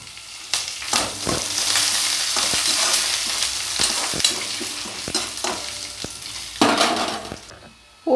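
Tempering in hot oil: urad dal, chana dal, dried red chilies and curry leaves sizzle and crackle steadily in a pan, with occasional sharp pops and spoon stirring, close and continuous with no talking.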